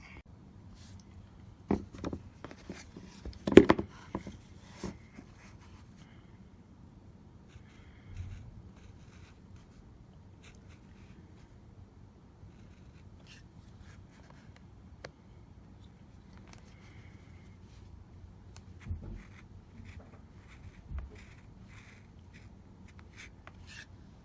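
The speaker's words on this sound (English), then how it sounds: "Just gonna try to cut into it little by little until it's easy removed." A blade cuts little by little into the edge of an Apple Smart Battery Case, made for the iPhone Xs Max, giving sparse, soft scraping and scoring scrapes with a few sharper snaps early on, close and quiet with no talk.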